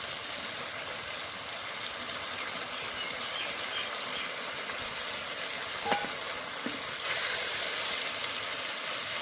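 Water poured into a hot pan while making a vegetarian paneer curry gives a continuous loud hiss and sizzle, swelling briefly near the end.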